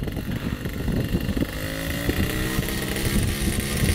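A rare motorcycle with a baffle still fitted, running cold and needing to warm up, a rough uneven engine rumble with some throttle blips and wind noise on the microphone.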